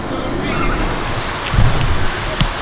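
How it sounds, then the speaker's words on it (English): Steady rain patters on a camper van during a darkening storm, a continuous broadband wash with a few louder drops and a brief heavier burst partway through. "And now it's raining."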